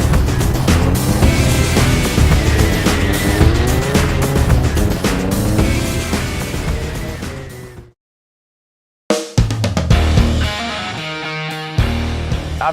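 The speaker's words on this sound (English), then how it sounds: "Hey, that's how you do a burnout" A car doing a burnout at an LSG rally event, its tires squealing with a loud, wavering screech over a roaring engine. The sound cuts out for about a second, then resumes with sharp bursts.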